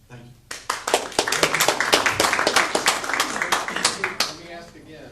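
An audience at a New Milford, Connecticut mayoral debate bursts into applause, with many hands clapping in a loud, dense patter that keeps going for several seconds before fading.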